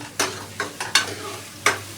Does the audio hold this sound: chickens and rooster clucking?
no